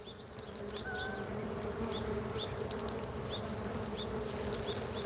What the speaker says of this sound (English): Dang, you can hear all the bees.